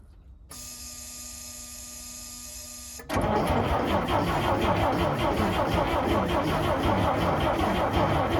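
An antique truck engine cranks with a steady starter whine, then catches and runs loudly and continuously, a rough close-up idle with no talking.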